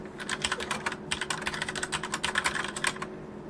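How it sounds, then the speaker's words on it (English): Close, brisk typing on a mechanical keyboard with Cherry MX Brown switches, a quick run of clacky keystrokes in uneven bursts with no talk. "Cherry MX Browns, I'm just going to type a standard"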